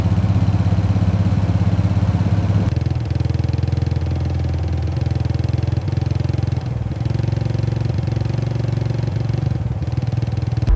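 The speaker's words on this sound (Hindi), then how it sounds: "सर, कोई आर्मी वाला बुलेट से आ रहा है।" A Royal Enfield Bullet motorcycle approaches with a steady, thumping single-cylinder engine drone that holds loud and continuous throughout, rumbling low without pause.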